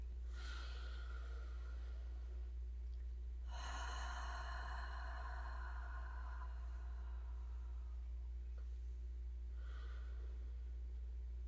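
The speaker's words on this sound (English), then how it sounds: "Let's take another deep breath." A person draws a deep, slow inhale, lets out a long audible breath through the nose and mouth, then takes a softer breath, all close over a low steady hum.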